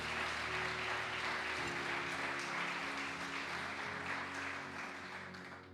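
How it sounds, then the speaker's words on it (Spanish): A church congregation gives the Lord a steady round of applause, a dense wash of clapping over sustained tones that slowly fades toward the end. "Dale un aplauso al Señor"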